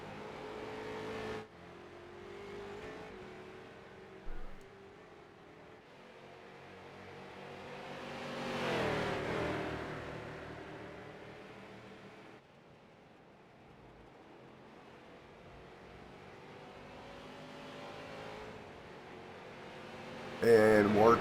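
Street stock race cars lapping the Charlotte Roval road course, engines droning steadily with a louder pass swelling in the middle, partly under race commentary.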